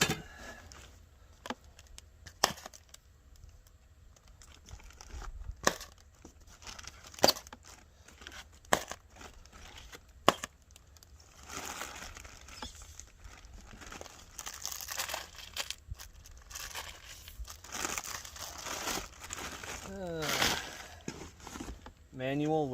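Crinkling and rustling of plastic bubble wrap packaging from a chainsaw, with sharp crackles and tears scattered throughout as material is handled up close.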